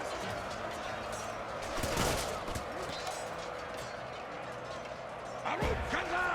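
Arrows and crossbow bolts loose in volleys during a Total War multiplayer battle set in the Last Alliance, elves attacking Khazad-dûm, with sharp bursts of shots over a steady roar of combat.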